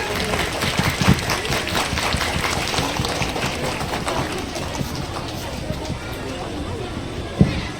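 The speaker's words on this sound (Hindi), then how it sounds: "एक बार सर के लिए जोरदार तालियों से स्वागत करिए उनका" An audience at a school's annual cultural program applauds to welcome a guest, a dense, steady roar of many hands clapping, sustained and fairly loud, with a faint voice partly audible beneath it.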